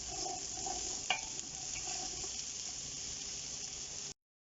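Onions and garlic sweating in a hot pan give a soft, steady sizzle with a faint clink partway through, quiet and unbroken, then the sound cuts out abruptly near the end.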